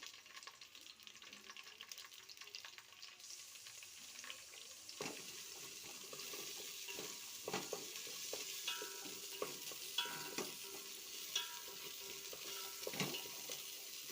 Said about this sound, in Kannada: ಅದು ಬಿಸಿ ಆದಮೇಲೆ ಒಂದು ಈರುಳ್ಳಿ ಕಟ್ ಮಾಡಿ ಇಟ್ಕೊಂಡಿರೋದ್ನಲ್ಲ, ಆವಾಗ ಅದು 1 ಈರುಳ್ಳಿ ಹಾಕೊಳ್ಳೋಣ